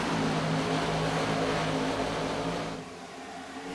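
A red and black Chevrolet Camaro race car roars past on the Charlotte track, a loud sustained engine drone that drops away near the end.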